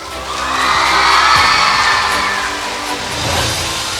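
A crowd of schoolgirls cheers and shouts with whoops after the third-place result at an inter-house dramatics competition, a loud, sustained burst of voices rising and swelling.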